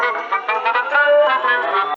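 Excerpt of a power metal song from an album, with dense distorted guitars and full band playing loud and steady, with rhythmic accents throughout and no talking.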